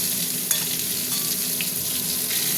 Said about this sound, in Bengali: আলুগুলো এখন ভাজা ভাজা হবে